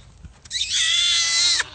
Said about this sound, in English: You've not heard a goat scream until you heard this little girl scream.